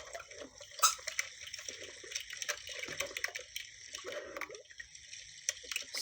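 Gentle water sloshing and splashing as someone wades through chest-deep water in a mangrove swamp, with soft irregular swirls and a few sharper splashes, fairly close and steady throughout.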